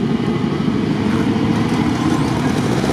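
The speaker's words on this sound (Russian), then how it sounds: "Классно мотор в шишиге работает." A GAZ-66 truck engine runs steadily at a constant low rumble, close and loud, with no voices.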